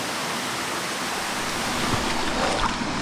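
A waterfall pours into a cave as a steady, dense, close roar of rushing water, with no voices.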